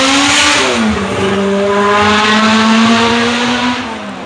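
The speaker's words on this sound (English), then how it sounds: "Why do cars just zoom by once they see all these cool cars and then they stop up there?" Cars zoom past at a classic car show with Corvettes on display, a loud engine roar rising and falling close by, with a sustained drone as a vehicle speeds through.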